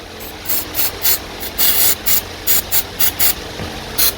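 Short bursts of aerosol cleaner sprayed onto an intake solenoid valve from a Holden/Chevy car, about a dozen quick hissing puffs in an irregular rhythm, close and clear with no talking.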